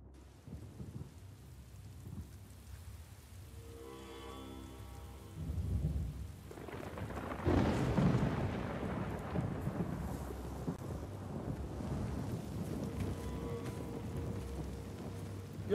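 Steady rainfall and rolling thunder in The Last of Us Part II game, starting as a soft patter before a loud thunder rumble builds and the rain grows heavier and denser, with no voices.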